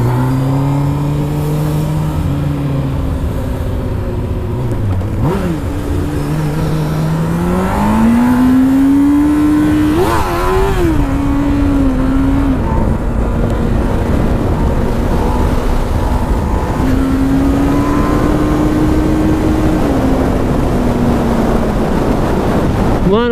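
A motorcycle with its exhaust removed revs and rides through weekday city traffic, its loud, raw engine note rising and falling continuously with throttle changes, close and steady throughout, with no talking.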